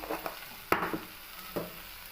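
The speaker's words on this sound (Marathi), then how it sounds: "शेंगा मी तेलामध्ये थोड्याशा फ्राय करून घेतल्या आहेत" Cluster bean pods frying in oil for a village-style bhaji, a faint soft sizzle broken by a few quiet stirring scrapes and clinks.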